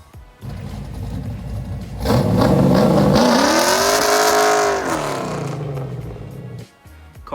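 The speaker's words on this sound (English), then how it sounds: "Here's an exhaust clip of it right now." A fourth-generation Chevrolet Camaro on its stock exhaust revs up from a low idle into a loud, sustained roar, holds for a few seconds, then drops back down, close and alone with no talk.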